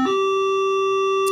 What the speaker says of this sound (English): they're practicing Wednesday bells, the new Wednesday schedule